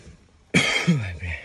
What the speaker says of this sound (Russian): Что ты кашляешь?